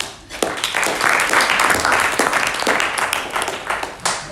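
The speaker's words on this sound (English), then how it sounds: "So a quick round of applause for Laura." An audience at a municipal event on cities and levelling up breaks into a steady round of applause. The dense clapping runs loud and continuous, with no one speaking over it.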